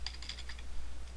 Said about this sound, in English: I'm typing my first name, middle, initial